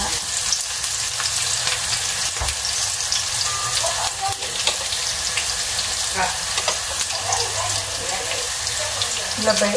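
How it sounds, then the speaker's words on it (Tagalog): Onions sizzle steadily in hot oil in a pan, the start of a broccoli stir fry, with a loud, continuous close frying hiss and occasional stirring scrapes throughout. "magigisa ako ng broccoli. Ayan, sibuyas muna."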